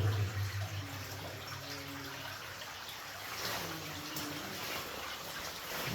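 Water pours steadily out of an abandoned mine tunnel on the verge of collapse, a close, continuous rushing trickle echoing faintly against the rock.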